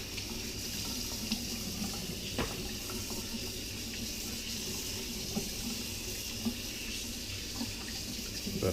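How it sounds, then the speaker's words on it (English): Water from a running kitchen tap pours steadily over a greasy knife as it is rinsed in the sink, a loud, close, continuous splashing with a few small clinks and no talk. "Wash that knife off a bit."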